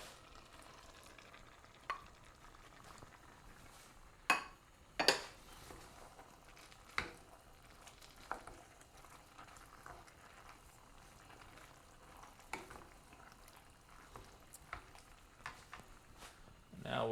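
Faint wooden-spoon stirring of garden okra into a pot of vegan, gluten-free gumbo, a soft steady scrape broken by a few sharp clinks against the pot rim, with a low simmer underneath.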